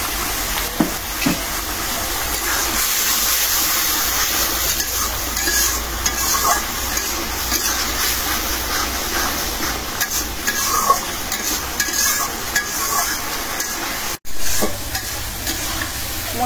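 Whole cardamom pods and two pieces of cinnamon frying in oil for mutton khichuri, with a steady sizzle and occasional scraping stirs running throughout, close and moderately loud with no talk.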